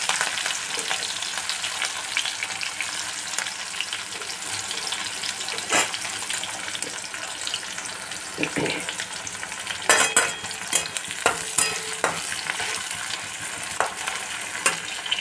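Chopped green chili, garlic and onion fry in hot oil over low heat, making a steady close sizzle. Scattered scrapes and clicks of a spatula come through, and they grow more frequent toward the end.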